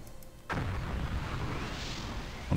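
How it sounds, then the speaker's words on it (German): Explosions in the video game Anvil of Dawn: a sudden loud rumbling blast that rolls on as a sustained low roar, followed by another sharp burst near the end, with no voices. "Und hier höre ich Explosionen."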